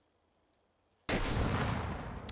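A single M1A1 bazooka rocket is launched in Hot Dogs, Horseshoes & Hand Grenades: a sudden loud, close blast erupts after near silence and a faint click, then a broad roaring rush sustains and slowly fades.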